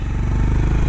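A Honda H'ness 350 motorcycle engine running with a steady, deep, even thump, close and loud, with no voices.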